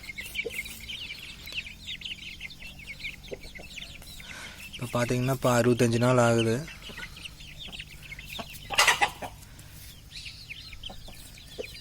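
Backyard chickens, about 65 days after hatching, cluck and peck quickly at feed with soft scattered pecks throughout, while someone speaks over them in a mid-distance outdoor setting.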